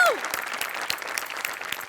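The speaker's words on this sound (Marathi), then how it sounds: "जोरदार टाळ्या" Loud studio audience applause on a Marathi comedy show, dense steady clapping throughout with a brief whoop at the start.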